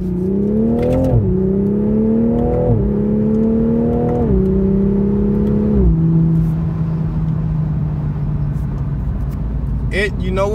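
A 2021 Toyota Supra 3.0T Premium accelerates hard with paddle shifts, its engine note climbing in pitch and dropping at each of several quick upshifts before settling into a steady drone, loud and close throughout.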